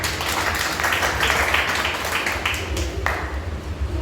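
Congregation applause at a Hindi church service, a steady dense wash of many hands clapping that holds loud for several seconds with a brief lift near the end.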